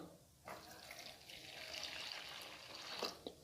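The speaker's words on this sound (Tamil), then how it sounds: "ஒரு கப் தண்ணி ஊற்றிக்கிடலாம்" Water poured from a cup into a kitchen pot holding powdered black kavuni rice, a steady close splashing pour lasting about three seconds with a brief louder burst near the end.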